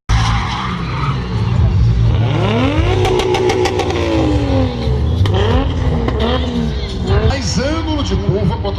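Cars drifting at a live drift show, tires smoking and squealing in long, wavering screeches over loud, constant engine roar, several overlapping skids with revving, while a crowd and an excited commentator are heard throughout.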